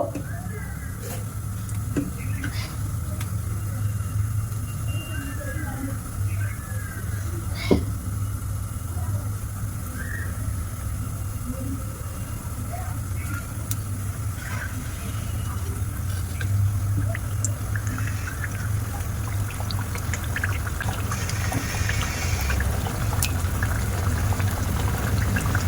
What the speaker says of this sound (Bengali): তো তেল গরম হয়ে গেছে, এবার আমি পিঠাগুলো দিয়ে দেব।